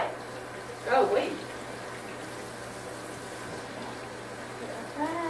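Water running from a tap in a home while making elephant toothpaste, a steady faint hiss throughout, with brief louder splashy bursts near the start and end.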